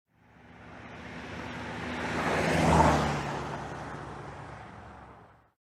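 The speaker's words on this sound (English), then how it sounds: "we ride in the car." Car driving by as a sound effect in a children's picture book about a camping trip: a broad whooshing pass that swells to a peak midway and fades out, with a low engine hum underneath and no voices.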